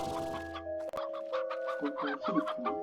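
Chickens in the video game Slime Rancher cluck in short, irregular bursts over a steady droning game soundtrack, fairly close and moderately loud.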